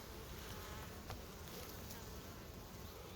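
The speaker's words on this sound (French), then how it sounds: "je vois un putain de frelon asiatique là devant" A faint, continuous insect buzz drones around a water trough on a hot summer day, where an Asian hornet is hunting. It sounds distant and low in level over a steady outdoor background, with no talking.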